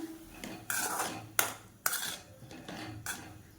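Mango chutney ingredients being stirred in a pan on a stove with a metal spoon, giving several sharp clanks and scrapes at irregular intervals against the pan, close and fairly quiet, with no talking.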